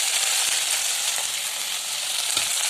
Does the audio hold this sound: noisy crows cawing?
no